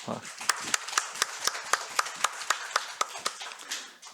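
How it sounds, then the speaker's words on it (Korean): A church congregation claps in steady, evenly spaced beats of encouragement during a Sunday morning service, the crisp claps repeating about four times a second, fairly close and distinct over a quiet room. "우리 격려의 박수로."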